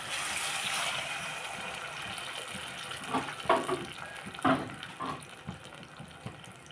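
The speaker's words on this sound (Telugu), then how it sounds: "రెండు గ్లాసులు వాటర్ వేస్తా" Two glasses of water pour steadily into a pan of tomato bath with a splashy rush, joined midway by a few clinks and knocks of kitchenware, close by.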